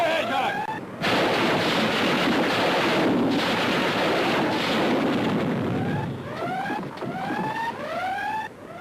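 A hedgehog anti-submarine mortar salvo fired from a warship at sea: a sustained roaring, crackling blast of projectiles and wind lasting several seconds, with rising whistling tones at the start and end of the clip.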